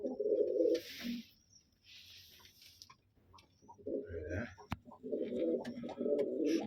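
Domestic pigeons kept for sale give soft, low cooing calls in repeated bursts close by, with quiet pauses between them and a faint click in the middle.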